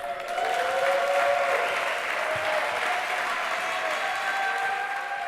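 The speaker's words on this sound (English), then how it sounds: "now we can start with a big applause for the players" A crowd in an indoor sports center applauds the players at a blind tennis men's final, a steady, moderately loud wash of clapping with a faint tonal hum underneath.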